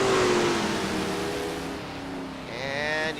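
Race car engines in qualifying at Salem drone past at close range, with a falling pitch as one car passes, then another engine rises in a revving whine near the end.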